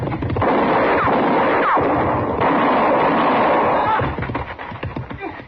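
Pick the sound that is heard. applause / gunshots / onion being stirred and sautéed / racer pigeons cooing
gunshots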